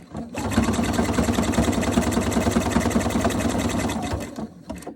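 Close and loud, a sewing machine hums in a fast, even run for about four seconds, backstitching a knit t-shirt collar seam, starting and stopping abruptly.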